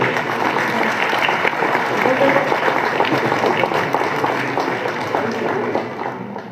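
A hall audience at a student prize distribution gives a long, thick round of applause that holds steady and then begins to taper off near the end.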